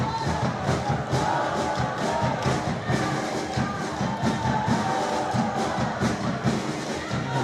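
Hockey fans at the Sultan of Johor Cup 2017 match between India and Malaysia, a steady crowd roar with rhythmic thumping and chanting that spurs on the team, continuing across the whole stretch.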